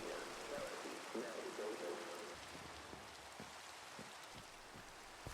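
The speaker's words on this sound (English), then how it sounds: "it started raining as soon as he was broadcasting that" Steady rain in Minecraft hisses throughout, with soft patters and a few distinct drops tapping, fairly faint and even, while a voice murmurs faintly in the first couple of seconds.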